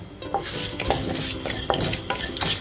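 Chana dal and urad dal roasting in oil in a pan for red chutney, with steady soft sizzling under repeated scraping stirs and light clinks of a spoon against the pan, close and continuous with no talk.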